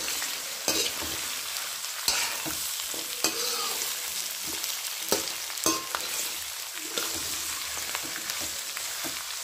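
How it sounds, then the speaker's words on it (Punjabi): Indian gooseberries (amla) fry in a hot pan with a constant hissing sizzle, while a spoon stirs them in irregular knocks and scrapes against the pan. "ਇੱਧਰ ਆਪਣੇ ਫਰਾਈ ਹੋ ਰਹੇ ਨੇ ਆਮਲਾ"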